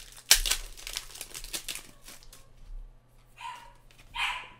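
A dog barks at someone in the background during a live sports card box break, with brief distant yaps amid crinkling packaging and a sharp tearing sound near the start.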